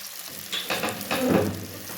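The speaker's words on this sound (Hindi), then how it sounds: "इस वजह से सारी चीज़ों को थोड़ी देर के लिए फ्राई करेंगे" Onions and tomatoes fry in a pan with a soft sizzle and a few stirring scrapes, close and fairly quiet, lasting only a couple of seconds.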